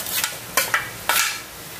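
Ginger garlic paste is stirred into browned onions in a hot pan for dry chicken masala, with a few sharp scraping strokes over a soft sizzle, close and distinct with short pauses between them.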